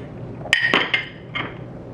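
Whole spices including cloves, nutmeg, star anise and mace drop into a metal pan for chicken yakhni pulao, giving two sharp clinks and a few lighter rattles, close and with no talk.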